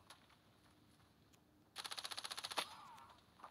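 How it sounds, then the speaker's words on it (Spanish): Rapid gunfire in the mobile shooter Standoff 2, a quick burst of about a dozen sharp evenly spaced shots after quiet, followed by a brief trailing sound, fairly faint overall. "¿Un solo disparo? ¿O es idea mía?"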